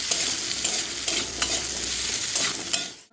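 Steady sizzling of potato and pumpkin frying in a pan, with regular scraping strokes of stirring every half second or so, close and fairly loud.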